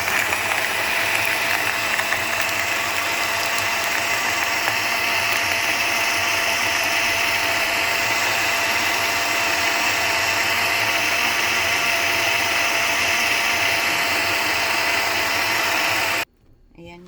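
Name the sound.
blender blending Yakult and water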